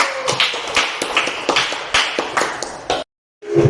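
A classroom of students claps for a student group, with scattered, uneven hand claps over about three seconds. The clapping stops abruptly, followed by a short silence and then a new sound.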